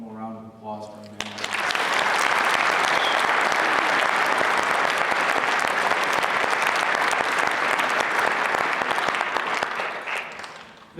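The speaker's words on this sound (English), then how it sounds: "So if I could have one more round of applause for them." Loud, sustained crowd applause for wrestling team trainers at a high school wrestling welcome-home event. It follows a brief spoken line, holds steady for about nine seconds, then fades.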